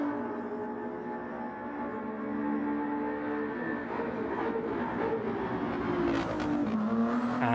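Race car engine note from a racing video game, a Ferrari 296 at Circuit Gilles Villeneuve, droning steadily and rising in pitch as it crosses the finish line, loud and continuous, with no one talking.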